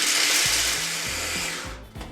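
A blender whirs loudly and steadily as it purées pesto with pine nuts, its motor pitch stepping up and down in short surges, with no voices.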